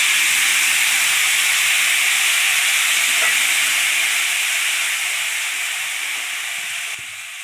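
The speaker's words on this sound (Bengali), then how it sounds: "জল ঢেলে দিচ্ছি।" Water hits a hot pan of lightly fried fresh tangra fish for a curry, giving a loud, steady hiss of steam that runs unbroken for several seconds and eases off slightly at the end.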